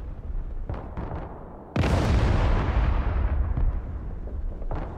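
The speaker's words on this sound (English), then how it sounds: "I brought my anti-infantry artillery up." Artillery firing in the strategy video game Broken Arrow: a few faint distant thumps, then one loud booming blast that rumbles and slowly decays over several seconds, followed by another soft report.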